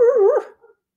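A single short dog vocalisation, a high whining bark that drops off quickly, followed by a faint trailing yip and silence; no people talking.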